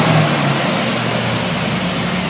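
A 1963 Chevrolet Impala SS V8 with a rebuilt Edelbrock carburetor idles loudly and steadily up close, a smooth, even rumble with no talk.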